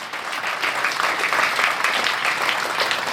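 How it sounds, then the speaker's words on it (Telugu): An audience at a school teachers' event applauds, with steady, dense clapping that stays loud and even for about three seconds and carries no speech. "గట్టిగా చప్పట్లు కొట్టే మీరు"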